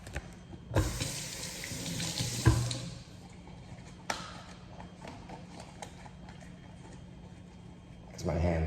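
A tap runs water for a few seconds during cleaning, a loud rushing burst that starts abruptly, drops off, then returns briefly near the end, with a voice talking over it.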